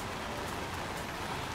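Steady rain falling outdoors, a constant even hiss of drops with no talk, ending in a sudden brief bump that may be handling noise.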